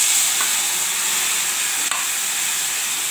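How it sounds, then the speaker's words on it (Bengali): Black cumin, cumin and mustard paste hit hot oil as a tempering, producing a loud dense hiss and sizzle with one sharp tap midway, heard close and alone. "ফোড়ন দিয়ে দিচ্ছি, কালো জিরা দিয়ে দিচ্ছি, জিরা দিয়ে দিচ্ছি, সর্ষে বাটাটা দিয়ে দিচ্ছি"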